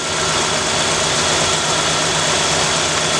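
A 1967 Ford Galaxie with a carbureted 289 engine idles after a cold start, a steady, loud, close rumble with no break or change.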